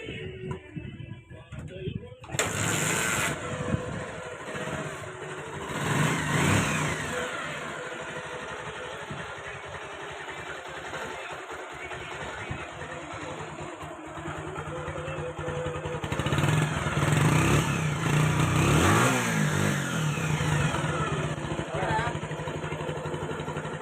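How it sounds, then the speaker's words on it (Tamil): A Bajaj Pulsar 150 motorcycle engine with a newly changed cylinder kit idles steadily nearby, a low continuous rumble with a brief revving swell near the start and louder running toward the end. "இன்ஜின் பக்காவாக இருக்குது, எந்த ஒரு நாய்ஸ் இல்லை, நல்லாயிருக்கு சவுண்டு."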